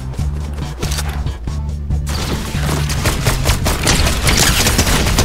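Rapid bursts of Fortnite gunfire crackle loudly through a solo Cash Cup match, stacked volleys and single shots overlapping with game music underneath, intensifying toward the end.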